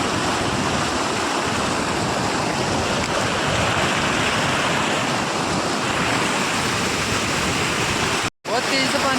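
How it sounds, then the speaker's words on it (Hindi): Fast-flowing water of the Chandrabhaga river rushing near a dam, a loud, steady broadband roar close by that runs unbroken and fills the whole scene, cutting out briefly near the end. "नदी की तरफ, डैम की तरफ बहुत तेजी से पानी बह रहा"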